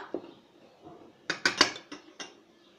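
Chaat masala spices being mixed in a dish, a scattering of light clinks and scrapes of a utensil against the container, close and quiet with a brief cluster of sharper knocks midway.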